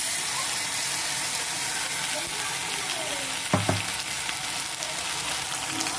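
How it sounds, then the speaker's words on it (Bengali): Ground ginger, garlic, chili and turmeric paste hits hot reddened onions in a pan, giving a steady close sizzle with a brief sharper crackle and stirring clatter midway, no talking. "এবারে আমি এতে বেটে রাখা আদা, রসুন, লঙ্কা, হলুদ সব দিয়ে দিলাম।"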